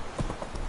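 Horse hooves clip-clopping at a gallop in The Witcher 3, a short burst of rhythmic thuds close by with no talk over it.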